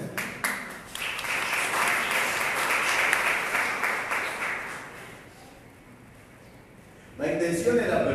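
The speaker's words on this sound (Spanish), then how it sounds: "Dale un fuerte aplauso al Señor" A church congregation at a Spanish-language sermon applauds in a broad wash of clapping that swells, then gradually fades away, before a voice starts speaking near the end.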